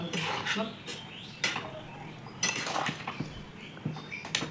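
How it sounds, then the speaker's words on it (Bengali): A utensil stirs mango pickle ingredients in a metal pan, scraping and clinking in irregular bursts close up, with faint background sound and no clear talking. "সমস্ত উপকরণটাকে ভালো করে ওপর নিচে করে নাড়াচাড়া করে নেব"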